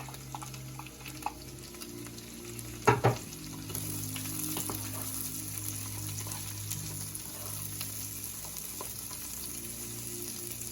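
Peppers and leeks sizzle steadily in a pan as they fry for a soup. A couple of sharp clanks from utensils come early on, and the soft, continuous crackle carries on alone without any talk.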